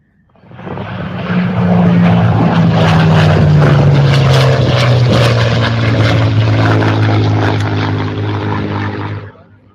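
A small RC airplane with a 17-inch wingspan flies close by, its electric propeller giving a loud, steady buzzing whine whose pitch slowly drops as it passes, running without a break for about nine seconds.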